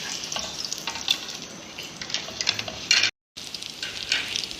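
A chicken pizza pocket fries crisp in a pan over low heat, a bright crackling sizzle with small pops, cut by one brief moment of silence before the frying resumes.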